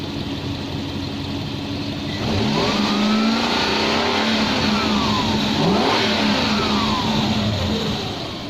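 A Lexus LS400 engine runs steadily up close with its air filter cover refitted, settling from idle into a couple of smooth revs that swell and ease back down, no voices present.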